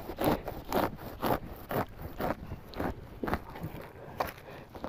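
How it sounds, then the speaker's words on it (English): A hosta clump is cut down the middle in a garden, giving repeated crunchy, scraping chops at a steady rhythm, close and moderately quiet, with no talking. "I'm just going to go ahead and cut it right down the middle"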